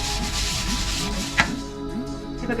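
Ghee being spread over a tray or metal plate produces a close, continuous rubbing and wiping sound in a steady back-and-forth rhythm, with one sharp tap partway through; no voices.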